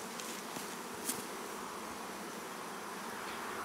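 Honey bees buzz in a continuous, soft hum as a powerful hive is robbed outdoors, with a faint click or tap partway through and no speech.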